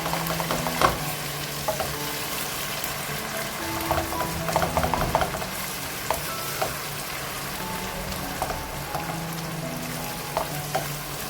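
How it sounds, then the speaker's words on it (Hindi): Chopped onions sizzle and fry steadily in hot oil in a pan, with occasional stirring clinks and scrapes, close and continuous with no talk. "देखिए ऑयल हमारा गर्म है, प्याज हम डाल देंगे इसमें ताकि हम प्याज को अच्छी तरह सौते करेंगे।"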